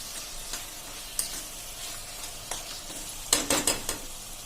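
Chopped tomatoes sizzle in a hot pan while they are stirred, with a steady frying hiss and scattered scraping clinks from the spoon. A quick flurry of louder scrapes comes near the end.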